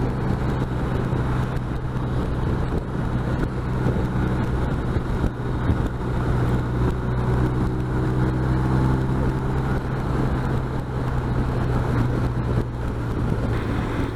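BMW R 1250 RT motorcycle cruising on a highway, a steady loud drone of engine and road noise with heavy wind rush throughout, no talk.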